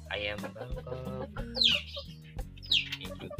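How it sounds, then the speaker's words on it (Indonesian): Bangkok chickens in a breeding pen cluck and squawk in short repeated calls, close by, mixed with other sounds and some voices. "ayam Bangkok."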